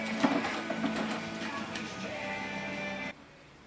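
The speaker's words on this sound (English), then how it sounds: "Dremel time!" A Dremel rotary tool cuts into a BitFenix Shinobi PC case with a steady, close, whining grind that stops abruptly near the end.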